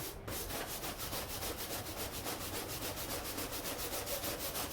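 Steady, rhythmic abrasive rubbing as brake lines are polished, a dense scraping stroke repeating evenly and close up without pause and without voices.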